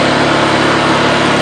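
Generator 2000i engine running at a higher RPM, a steady, loud, buzzy high-pitched hum close by, constant throughout.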